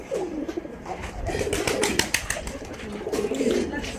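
Pigeons coo in soft, repeated rolling phrases at close range, with several bursts spread across the moment, over a rustling rural yard background.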